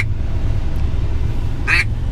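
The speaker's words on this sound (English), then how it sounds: "We are at a bass fishing tournament calling ducks." Ducks are called at a Missouri tiny-boat bass fishing tournament: a single short, nasal quack cuts through a loud, steady outdoor rumble.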